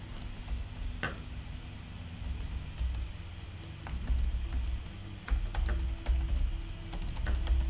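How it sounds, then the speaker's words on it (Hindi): Steady computer keyboard typing while text is entered into a Canva menu coupon design, with scattered key clicks over a low background hum and no talking. "कुछ भी यहाँ पे मैं टाइप कर देता हूँ।"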